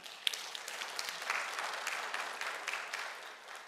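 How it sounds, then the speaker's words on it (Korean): Congregation clapping during a Sunday church service, a short burst of steady, fairly faint applause with no speech over it, gradually thinning toward the end. "예수님을 믿음으로 인해 용서받으시고 구원받으신 분들은 한번 박수 한번 쳐보시기 바랍니다"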